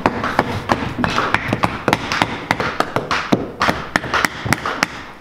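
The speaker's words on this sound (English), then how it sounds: "I take my wedge and I'll just pound that right in the end" Sharp, repeated taps and thuds as a wedge is hammered into a silicone mold during epoxy wall art work, a close, uneven series of dozens of hits with a few quick flurries and no talking.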